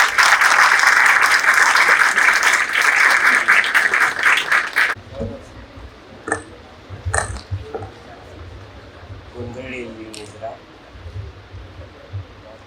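An audience at a transgender community felicitation event at MGM University claps loudly and steadily for about five seconds as a speaker is invited to the stage, then the clapping stops and a voice talks over the quieter room.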